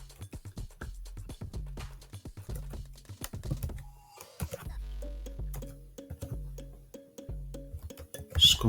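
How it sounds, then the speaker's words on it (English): Quick bursts of typing on a computer keyboard set up for Polish characters, close and crisp, with a soft background music tone running underneath. "I've got all my characters set up here on the keyboard, which is great."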